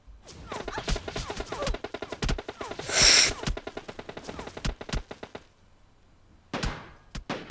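Rapid bursts of gunfire in the video game PUBG Mobile crack in dense volleys, with a loud blast in the middle, a pause, then more shots near the end.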